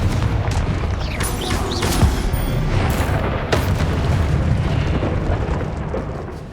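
Confringo fire spell blasts in Hogwarts Legacy, loud continuous booming explosions layered with rumble and sharp bursts, dense and sustained across the whole stretch.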